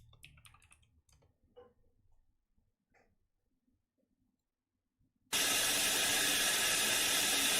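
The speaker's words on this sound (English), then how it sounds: "High steam sound." Loud, steady broadband hiss of high-pressure steam escaping, cutting in abruptly and roaring on without a break. Quiet clicking and low background noise come before it.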